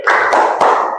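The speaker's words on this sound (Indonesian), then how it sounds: "Kasih tepuk dulu dong. Tepuk apresiasi ya." A classroom group gives a short burst of appreciative applause, dense clapping from several people at close range lasting about a second with a couple of sharper accents.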